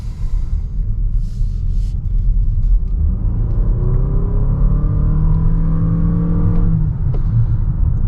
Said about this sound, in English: The CVT gearbox, it just keeps revving and revving and revving.